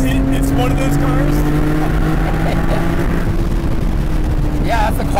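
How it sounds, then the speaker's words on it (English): A BMW M Roadster engine running steadily with its quiet exhaust setting while driving, a continuous low drone that stays loud and close throughout, with someone speaking over it. "Yeah, that's the quiet exhaust."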